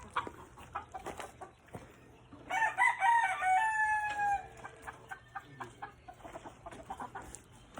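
A gamefarm rooster gives one loud, clear crow in the middle. Soft clucks and light farmyard sounds come before and after it.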